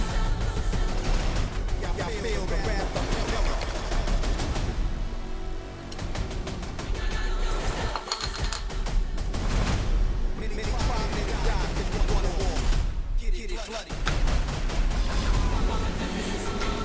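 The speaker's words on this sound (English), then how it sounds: "like all the gunshots and everything are timed to the music" Rapid gunfire and booming blasts from an action movie trailer land in sync with a loud, driving music score, dense and continuous throughout with brief dips between bursts.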